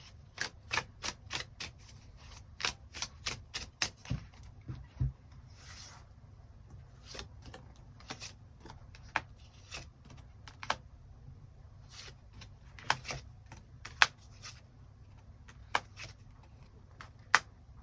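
Tarot cards are shuffled and drawn, producing a quick run of crisp clicking snaps and light rubbing, clustered early and then spaced out, close and fairly quiet.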